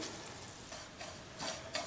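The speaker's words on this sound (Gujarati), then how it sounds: "ખસખસને આપણે પંદર સેકન્ડ માટે જ આ રીતે શેકી લેવાના છે" Poppy seeds and grated coconut dry-roasting in a pan for laddu crackle softly with a faint sizzle, broken by a few light scraping stirs of a spoon against the pan; quiet and close, with no talking.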